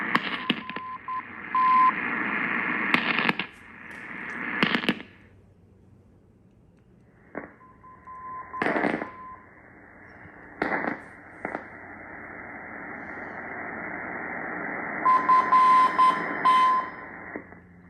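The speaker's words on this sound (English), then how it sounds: "there's always a lot of noise on low frequency here" Longwave reception on an Icom 7610 receiver, a steady hiss of radio static and noise with bursts of crackling interference and brief tones, moderately loud and continuous without talk.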